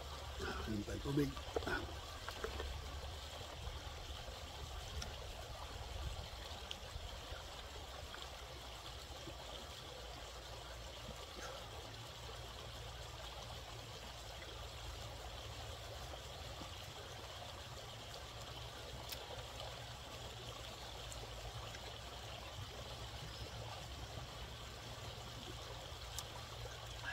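River water flows steadily with a continuous, moderately loud trickling and rushing stream, joined by a brief burst of nearby sound at the start and then holding unbroken to the end.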